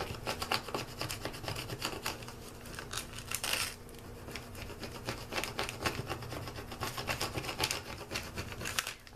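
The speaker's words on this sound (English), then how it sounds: "let's go ahead and get my little squeegee thing out here" A squeegee rubs over a car magnet sheet, making repeated short scraping and rubbing strokes. The strokes come close and fairly quiet, in an irregular rhythm, with no talk.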